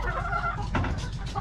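Brood hens clucking in pens on a Filipino poultry farm, a close, continuous mix of low clucks and murmuring fowl sounds with no talking.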